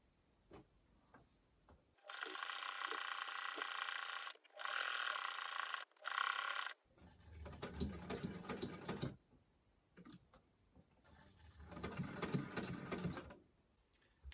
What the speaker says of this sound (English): let's just put a couple of stitches back before we go forward